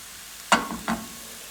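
Ground taco meat browns in a hot pan, a low steady sizzle broken by two short scraping stirs, close and alone with no talk.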